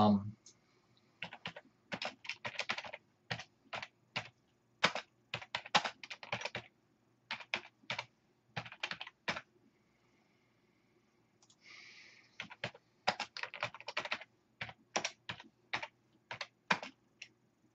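Bursts of rapid keystrokes on a computer keyboard come in quick rhythmic runs with short pauses, close and fairly quiet, alongside occasional speech.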